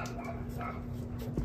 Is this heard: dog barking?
yes